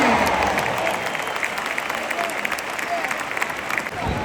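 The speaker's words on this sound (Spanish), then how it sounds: "Y esas palmas que las tiramos espontáneamente del público y demás." Spectators at a bull-leaping contest in the ring during San Fermín 2025 clap in a broad, sustained wash of applause, with voices and shouts from the crowd mixed in.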